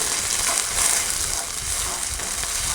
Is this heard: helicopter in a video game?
no